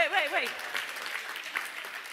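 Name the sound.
audience applause for providers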